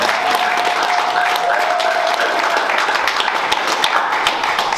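At a ceremony installing members of the UDPS Belux federation, a crowd applauds loudly and steadily, dense clapping filling the room with a few cheers rising through it.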